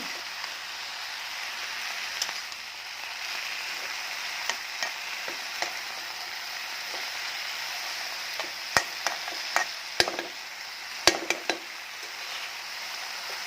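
Leafy greens frying and being stirred in a pan, a constant soft sizzle broken by sharp scraping and tapping of a spatula, growing busier and more clattery toward the end.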